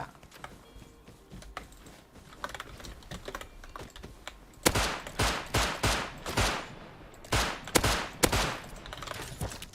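Gunfire in the survival game Rust, faint scattered shots at first, then a loud run of sharp bursts in quick succession, each a hard crack against quiet backing with clicking keys nearby.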